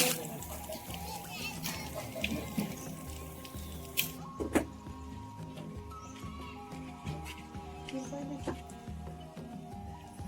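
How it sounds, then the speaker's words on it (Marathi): Water sloshes and splashes in uneven bursts as lentils are rinsed by hand, close by, over a busy background with faint voices. "आता मग मी पाणी घेतो आणि दाय धुवून काढतो वरणासाठी"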